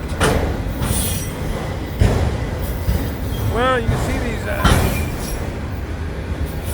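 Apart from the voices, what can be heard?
freight train car hitches rattling up and down over a crossing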